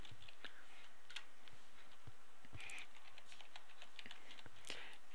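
Keys tapped on a computer keyboard while a user ID and password are entered, a quiet, irregular run of soft clicks over faint room hiss, with no talking.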